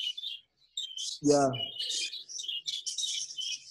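Budgies in a breeding room give short, high chirps and tweets scattered through the clip, with a voice briefly cutting in partway.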